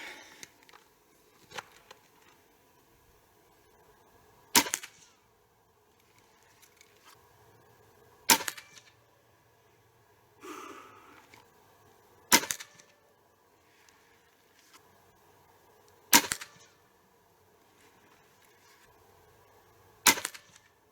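A Hatsan Mod 125 Sniper Vortex .22 air rifle fires JSB pellets: five sharp cracks spaced about four seconds apart, each with a short thud of impact, with faint handling noises between them and no speech.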